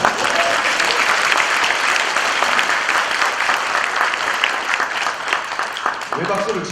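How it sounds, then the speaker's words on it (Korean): Audience at a citizens' school lecture in Changwon breaks into loud, sustained applause, a dense continuous clatter of many hands filling the room, with a voice starting to speak as it trails off. "왜 박수를 치세요?"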